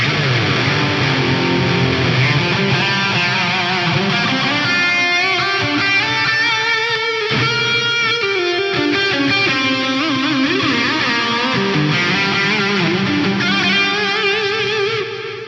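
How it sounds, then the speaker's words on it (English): A heavily effected electric guitar rings out continuously, its notes smeared into a dense wash of long reverb and repeating delay echoes. "This one kind of sounds like a cross between a big reverb and a big delay"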